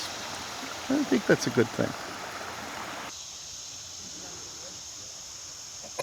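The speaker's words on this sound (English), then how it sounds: "it makes the stream gurgle more" French Creek in Warwick Park gurgles and hisses over rocks in a steady wash, with someone briefly talking over it at the start before the water carries on alone.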